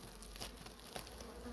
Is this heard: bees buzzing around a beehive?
yes